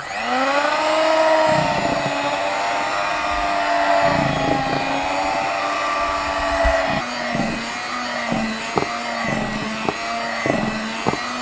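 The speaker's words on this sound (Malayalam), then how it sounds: "നമ്മളിത് കൂടെ മെഷീൻ കൂടെ ആക്കുമ്പോൾ അല്ലേ ആ നമ്മൾ ചെറുതായിട്ടൊന്ന് ബീറ്റ് ചെയ്ത് കൊടുക്കുക" An electric mixer beating almond cake batter, a steady whirring motor drone that shifts pitch slightly, then gets broken by rhythmic clatter of the beaters against the bowl.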